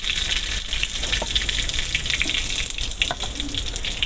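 Dried red chillies, bay leaf and whole cumin seeds sizzle in a couple of spoonfuls of hot oil in an Assamese home kitchen, a steady close crackling hiss with a few faint pops throughout.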